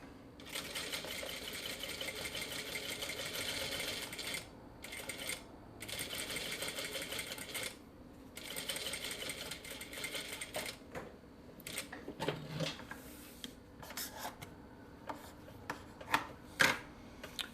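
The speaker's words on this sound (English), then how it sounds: "then I'm going to stitch down this at a 1/2 inch." A sewing machine stitches gray fabric along a half-inch seam while sewing box corners, running in steady close bursts of about three to four seconds separated by short pauses, then easing into quieter stitching with scattered clicks.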